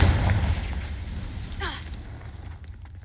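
A Confringo fire spell bursts in the video game Hogwarts Legacy, a deep booming explosion that rolls off and fades, followed by a brief crackle.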